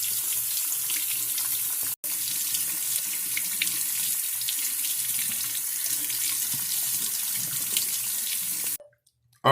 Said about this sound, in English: So let's rinse these out.